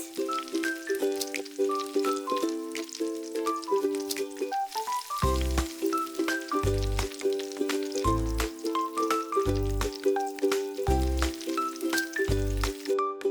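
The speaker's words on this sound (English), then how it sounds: "Fry it up." Miniature chicken pieces fry in a tiny pan of cooking oil with a soft, steady sizzle, heard beneath a bright, looping music track with plucked melodic notes and regular bass thumps.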